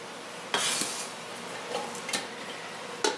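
Soaked beans tip from a colander into a pot, making a few sharp rattling clatters and softer scraping spills at irregular moments, close and alone with no talk.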